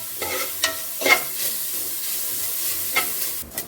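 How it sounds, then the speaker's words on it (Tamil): Stirring and roasting in ghee in a pan while making 90s-style mango bar candy: soft steady sizzle with several scraping stir strokes, close and moderately loud, no talk. "அந்த நெய்யில் நல்லா இந்த மாதிரி நல்லா வறுக்கலாம்"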